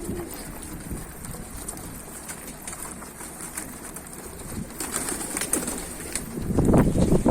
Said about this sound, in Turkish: Kuşları kuşları doyurdun ha Fuki.